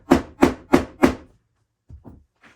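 A hammer taps four times in an even rhythm, sharp and close, while framing a painting, then two softer taps follow after a short pause.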